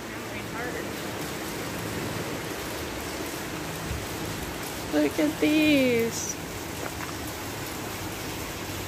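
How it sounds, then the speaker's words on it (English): Heavy rain pours down outside a shelter, a steady, dense hiss that continues unbroken throughout, with a short spoken phrase partway through. "Jeez, it sounds like it started raining harder."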